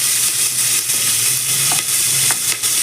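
Curry leaves and chillies dropped into hot tempering oil, a loud, dense, continuous sizzle and crackle with a few sharper pops, close up and with no talking.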